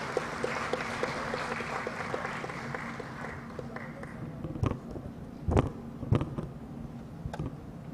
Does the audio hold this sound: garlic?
no